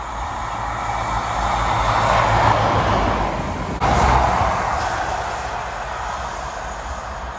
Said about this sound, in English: class 43 HST.